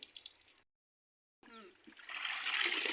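A child splashing and playing in water, with a short burst of splashing, then a pause, then louder continuous splashing and sloshing close by.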